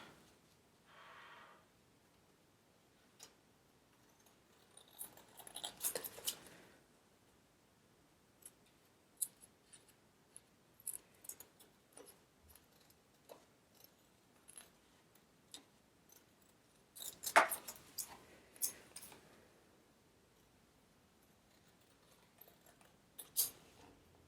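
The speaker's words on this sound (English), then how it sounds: "now I can take my scissors" Scissors cut paper cards in short, sparse snips and rustles, quiet and close, with clusters of sharper cuts near the start and middle and long pauses between them.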